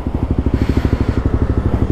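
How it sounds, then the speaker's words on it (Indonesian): Suzuki GSX-R150 motorcycle fitted with a Prospeed Black CNC exhaust, idling close by at low rpm: a steady, rapid throbbing pulse with a deep burbling tone throughout the short stretch. "Jadi bisa kalian dengar langsung ketika gue pakai motor ini dalam keadaan RPM rendah dan juga RPM tinggi."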